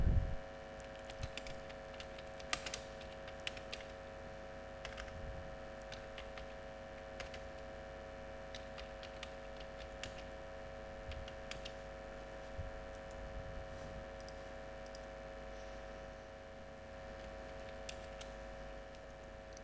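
Someone types on a computer keyboard while working in MS Word 2007, giving scattered, uneven key clicks that arrive in small clusters over a quiet, steady background hum, close and fairly soft.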